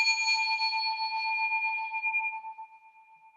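A single meditation bell is struck once to open a sitting session, its clear ringing tone sustaining and slowly fading to a faint hum over several seconds, alone in a quiet room.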